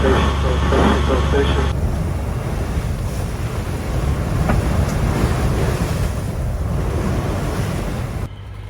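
Wind and sea waves around a boat in the Solent make a loud, continuous rushing wash with heavy wind buffeting on the microphone, and a voice speaks briefly at the start.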